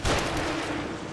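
Enemy gunfire in The Evil Within, a dense, continuous roar of shots that holds loud and steady throughout, with no speech over it.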